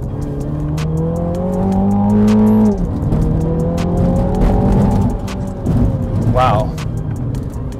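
A 2021 MINI JCW GP on sticky tires rolls over a rough German road surface, its loud, close engine drone rising, dipping and shifting with bumps and suspension thumps, with people talking over it.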